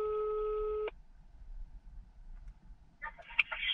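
Telephone call tone while dialing, a steady loud electronic tone that cuts off abruptly, followed by quiet line hiss and then a few faint clucking chicken-like sounds nearby.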